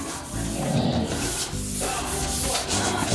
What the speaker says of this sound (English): I like to squeegee because I have little bumps in here.